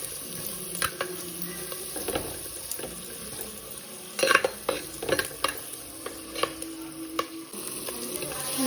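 A tempering frying in a pan, a close sizzle with irregular scraping and tapping strokes of a spoon, a few sharper clanks midway and faint running water in the background.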